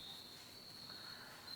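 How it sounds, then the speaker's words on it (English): Steady, faint chirping of crickets starting up for the evening after cicada season has ended, a continuous high trill with no voices. "Yeah, the crickets are starting up again."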